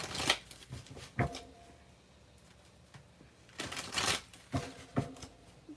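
Tarot cards being shuffled by hand in bursts, crisp riffling flurries with pauses between them, close and fairly quiet, with no talking.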